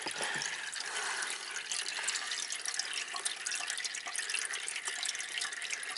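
Water drains steadily out of the flooded passenger floor of a Subaru in a continuous splashing, trickling rush that stays even in level for the whole stretch, with no voices.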